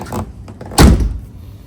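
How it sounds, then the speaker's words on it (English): Car door on a 1989 supercharged Toyota MR2 fitted with TRD door stabilizers shutting with one solid, loud, close thud, preceded by faint latch handling sounds. "different it sounds when I close the door"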